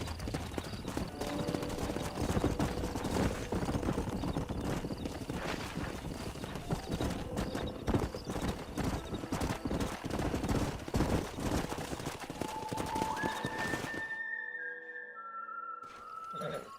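Horses trot with a dense, steady clip-clop of hooves in the Red Dead Redemption game world, loud and continuous for about fourteen seconds before cutting to near silence with a few faint tones.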